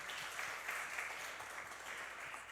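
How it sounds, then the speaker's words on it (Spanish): Continuous congregational applause in a church, even and sustained throughout, a dense wash of many hands clapping together without talk. "Denle un aplauso a Dios por eso."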